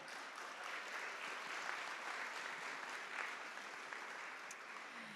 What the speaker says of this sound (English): Big round of applause for Viv.